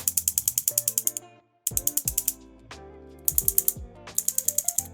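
Homebrew pinball solenoid driven by an Arduino through MOSFETs, firing in rapid machine-gun-like bursts of sharp evenly spaced clacks, with a couple of brief pauses between runs.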